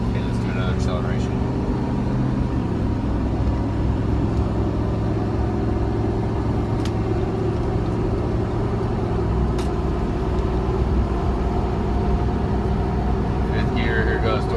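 A car with an automatic gearbox accelerates through the gears up to fifth, the steady engine drone rising and shifting, with a distinct change as the torque converter locks up, heard from inside the cabin.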